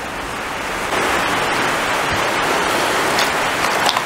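Rinse water for walnut-dyed leather pours and splashes steadily, a broad hissing rush that grows a little louder partway through.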